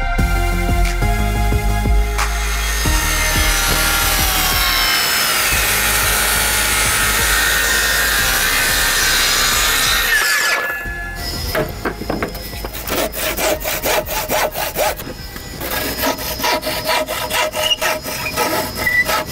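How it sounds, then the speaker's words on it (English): Steady, loud rasping of a handsaw cutting through wooden roof rafters for about ten seconds, then a pause and scattered scraping and knocking. "The next job, cut these rafters up, get it all ready"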